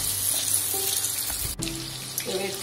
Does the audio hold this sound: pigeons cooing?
no